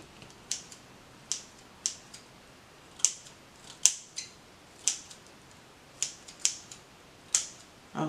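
Scissors snip fraying deco mesh on a Valentine's Day wreath frame: a steady run of about a dozen crisp, close cuts spaced roughly half a second to a second apart, with no talking.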